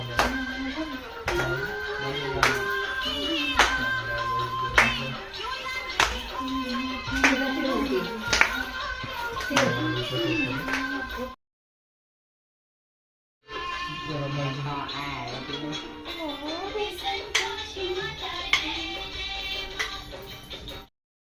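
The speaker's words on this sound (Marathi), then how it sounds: "टाळी वाजवत पलीकडे जाऊया" Hands clapping in a steady, regular rhythm while someone walks along, sharp close claps repeating throughout with a short silent gap partway, over faint background sound.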